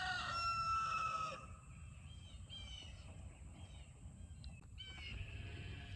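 A rooster crows loudly nearby from chickens out pecking in their farm pen, followed by softer clucks and scattered bird calls against a quiet outdoor background.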